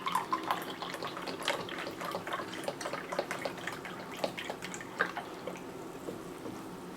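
Beef broth trickles and splashes as it is poured into a crock pot for stew, a faint liquid pour with small drips and sloshes, soft and close with no talking.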